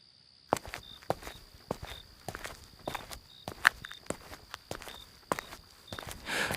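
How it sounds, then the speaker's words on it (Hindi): Footsteps in a village at night, used as an effect in a spooky horror story: a steady series of soft steps at an unhurried pace, fairly quiet against a faint insect-like high background. "तभी अचानक कदमों की आहट सुनाई दी।"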